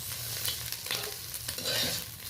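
Small mauralla fish fry lightly in a pan with a steady soft sizzle and gentle stirring, close and moderately quiet, no talking.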